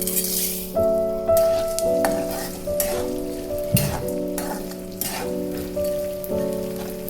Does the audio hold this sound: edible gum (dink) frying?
yes